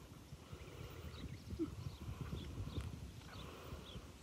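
The hooves of a Foundation quarter horse stallion clip-clop faintly in a steady walking rhythm over a low, windy background.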